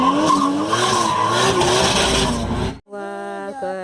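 A toy race car gives a loud, continuous skidding screech for almost three seconds, then it cuts off abruptly and a bright electronic jingle of steady tones takes over.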